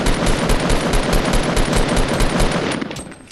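Rapid gunshots from a Fortnite match fire in a fast, loud, continuous burst with evenly spaced cracks, then taper off and thin out near the end.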